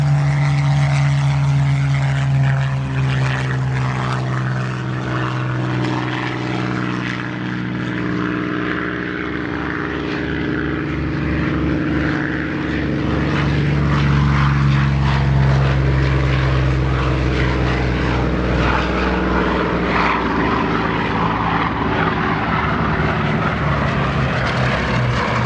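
A Bristol Blenheim, a wartime twin-engine propeller bomber, drones past at an air display, its loud steady engine roar swelling and fading over about twenty-five seconds with no voices.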